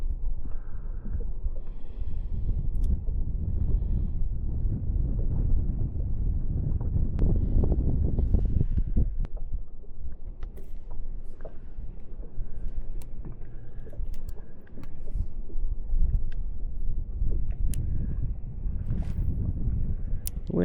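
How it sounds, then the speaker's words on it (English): Wind buffets a fishing boat out on the water, a continuous low rumble of gusts against the microphone with faint small knocks and creaks, steady and close, no talking. "Wind's a little rude"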